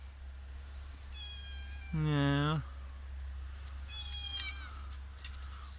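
Cats meow several times in a home, with one loud, drawn-out meow in the middle and softer meows before and after, over a steady low hum. A voice speaks briefly.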